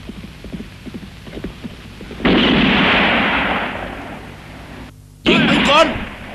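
Gunfire in a Django-style Italian western, two loud sustained bursts of blasting noise with a brief silent gap between, following a stretch of shouted voices.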